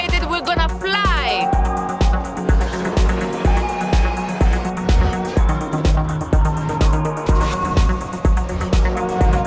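Peugeot 508 SW estate handled by a precision driver in a stunt run, with a steady pulsing mechanical rhythm, a brief tire squeal near the start, and voices underneath.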